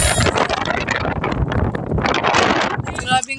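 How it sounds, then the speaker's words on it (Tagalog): Strong seaside wind roars and buffets the microphone in a continuous broadband rush at a beach picnic, with a brief voice near the end. "Grabing hangin ngayon"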